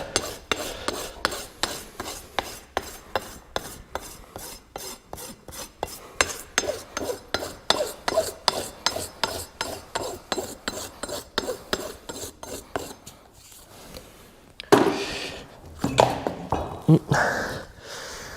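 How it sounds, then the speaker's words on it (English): A sanding unit finishes a horse's hoof in steady rhythmic rasping strokes, dozens in a row at an even pace, then a pause and a few harsher scraping passes near the end. "Just finish off with your sanding unit at the very, very end"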